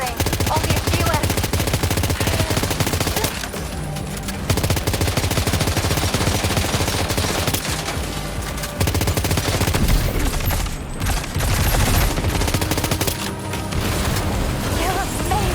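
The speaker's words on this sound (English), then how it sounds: "Keep firing." Gunfire in the video game Death Stranding 2, dense rapid automatic bursts with heavy booms, loud and nearly continuous with only short breaks.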